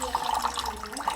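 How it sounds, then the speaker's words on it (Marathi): Water pours into a metal cooking pot in a school science demonstration, a brief continuous splashing gurgle heard close up. "पातेल्यामध्ये आपण पाणी भरतोय"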